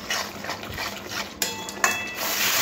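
A spatula stirs and scrapes spice masala with Kashmiri chilli powder frying in a pan, giving soft sizzling under close, irregular utensil clinks and scrapes, with a couple of sharper knocks against the metal.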